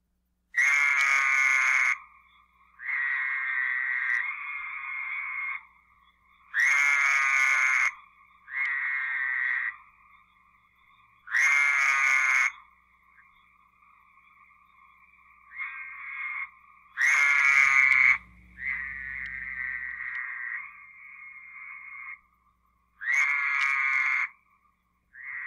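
Michigan toad giving its call, a single sheep-like bleating note repeated about seven times in a steady rhythm, each clear, loud and close, with no other sounds between.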